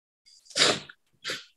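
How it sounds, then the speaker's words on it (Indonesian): A person with morning sniffles sneezes close by: a sharp breathy burst followed by a second, shorter sneeze, alone in an otherwise quiet room. "selalu kalau nggak bersin-bersin agak-agak pilek gitu ya"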